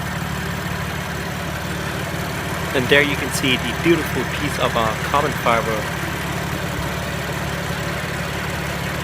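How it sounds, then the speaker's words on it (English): A BMW car engine idles with a steady low rumble that runs unbroken while someone talks over it. "Very impressive engine."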